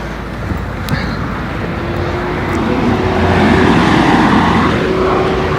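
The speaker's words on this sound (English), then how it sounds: "Okay, let's hear engine." A 2014 Citroen C3's engine runs with a steady, broad mechanical hum and road-like rumble that swells slightly louder toward the end, with no talking over it.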